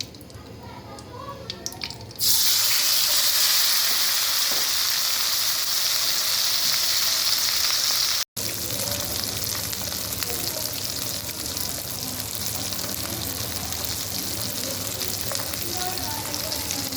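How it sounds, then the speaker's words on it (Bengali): Fish frying in a pan of hot oil, a loud, steady broadband sizzle that starts suddenly after a quieter stretch and carries on with a brief break, with no talking. "ভাজার সেম তেলে আমি আরেকটা মাছ ভেজে নিচ্ছি।"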